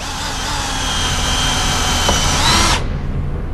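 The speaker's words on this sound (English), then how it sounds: "when I drill this, I'm going to control that drill bit right in there" A power drill whirs steadily at high speed for nearly three seconds, pitch shifting slightly as it bores a hole into an Airstream trailer while fitting wrap protectors, then cuts off abruptly.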